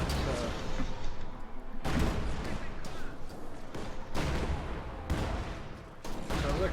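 Gunfire and heavy shell impacts from a Company of Heroes 2 battle, anti-tank gun shots among them, boom repeatedly in loud irregular bursts over a constant din of combat, with a voice talking over it.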